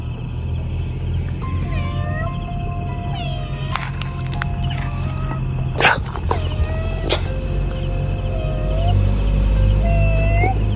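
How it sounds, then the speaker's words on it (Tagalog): A dog barks a few times at a distance over a constant outdoor hum and chirping insects, with faint rustling nearby. "May aso."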